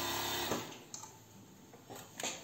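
An overlock sewing machine runs in short bursts while serging the seams of a bikini, its steady mechanical whir broken by a few brief pauses and clicks.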